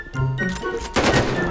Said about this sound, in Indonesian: Masih ada suara tembakan nih,